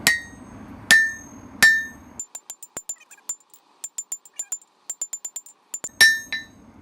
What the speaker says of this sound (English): I'm going to bring it to the near edge of the anvil and set it down